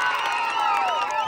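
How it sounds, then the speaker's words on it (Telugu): An audience at a prize-giving gathering cheers loudly, with many overlapping voices whooping and shouting close by and little distinct clapping. "అందరు గట్టిగా చప్పట్లు కొట్టండి."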